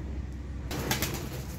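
A white pigeon, just treated for pox, let go from the hand: soft cooing and rustling, then a burst of close wing flaps lasting about a second.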